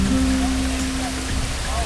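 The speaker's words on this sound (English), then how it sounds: "Man, isn't that incredible? Rain in the middle of Kenya." Heavy rain falls during a storm over a lake in Kenya, a loud steady wash of drops on the surface with no talking.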